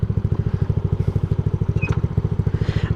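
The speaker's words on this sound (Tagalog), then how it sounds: "ito yung makina ko" Yamaha Mio Sporty scooter with a 59 big-valve engine and a 28 Keihin carb idling up close: a loud, even, fast thumping putter, steady throughout, with a faint click partway through.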